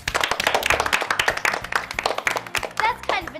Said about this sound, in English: The sound of hands clapping, isn't it?